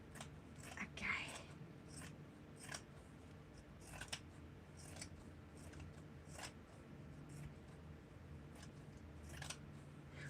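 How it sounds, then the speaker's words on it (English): Scissors snipping washed fabric to straighten the edge and trim loose threads: faint, close, irregular cuts repeating steadily, with quiet whispering underneath. "I first have to cut this straight and just cut off all the frimmels from the wash"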